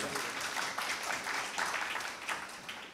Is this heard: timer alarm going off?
no